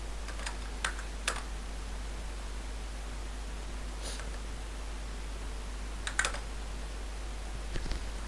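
Computer keyboard key presses while updating FreeBSD packages, a few faint scattered clicks in small clusters over a steady low hum.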